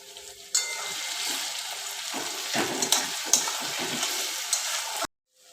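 Sliced onions with a pinch of sugar frying golden in oil for a potato and chicken curry, a bright steady sizzle with soft stirring bumps, ending abruptly in near silence.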